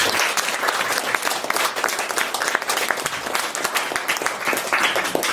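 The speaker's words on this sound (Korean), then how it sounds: "우리 이미경 교수님 다시 한번 큰 박수 부탁드립니다" Enthusiastic applause from an audience at a traditional hanok concert of Isang Yun's music, honoring Professor Lee Mi-kyung after her performance; dense, steady clapping fills the room throughout without pause.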